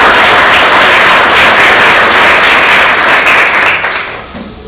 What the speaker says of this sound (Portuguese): tem uma salva de palmas para o Senhor